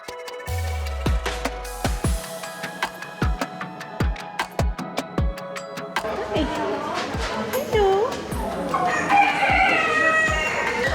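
Chickens at a county fair show, including poodle-like crested birds, clucking and crowing in repeated sharp calls close by, with chatter and voices of fairgoers around them as the scene grows busier.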